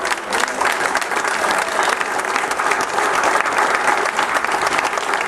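Loud, dense applause fills the hall at a political speech on wages, a continuous crowd clapping that stays strong and even from start to finish.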